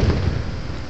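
Fireworks bursting over Baltimore on the 4th of July during the finale, heard as a dense, loud rumble of booms and thuds rolling together without a break.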